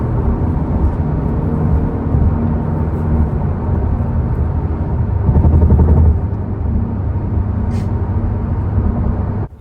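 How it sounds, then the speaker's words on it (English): A 2024 Acura Integra Type S rolls at highway speed over a loud road surface, with a dense, steady low rumble of tire noise filling the cabin throughout and a slight surge midway. "So let's start off with the tire noise sample first."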